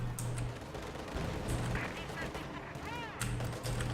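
Artillery fire in Company of Heroes 2 on the Pripyat map: repeated booming impacts and crackling gunfire in a busy battlefield mix, fairly quiet overall, with a few whistling shells falling between blasts.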